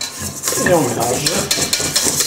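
Chocolate being stirred quickly in a bowl with a utensil: close, rapid swishing and scraping strokes, with light knocks against the bowl in a brisk, uneven rhythm.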